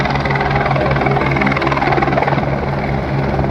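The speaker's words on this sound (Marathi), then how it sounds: "आता दुसरं हेलिकॉप्टर येतं आहे लँडिंगसाठी." A helicopter approaching a helipad to land, with loud, continuous thudding rotors and a heavy engine drone, nearby and unbroken throughout.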